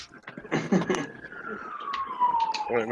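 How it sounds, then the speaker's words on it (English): A police siren wails past outside, its tone gliding slowly downward as it fades, heard under someone talking indoors. "We got sirens going through."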